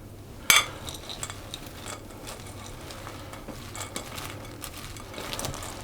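A spoon stirs dried fruit and cherries in a bowl for Christmas cake, a sharp clink at the start followed by soft, intermittent scraping and shuffling, quiet and close.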